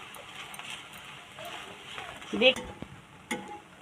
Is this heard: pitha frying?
yes